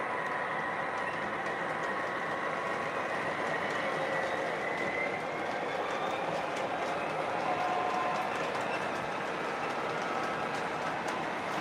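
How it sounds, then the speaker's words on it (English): O scale model train rolling along its track, a steady continuous rumble with faint clicking and light squeal, moderately close and alone with no talk. "I just got to bring this other train around."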